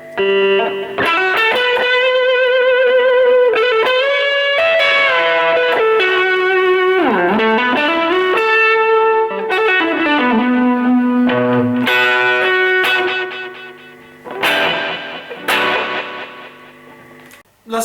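Electric guitar through a Boss DD-6 digital delay pedal plays a melodic line with bending notes, each phrase trailing into repeating echoes, loud and alone.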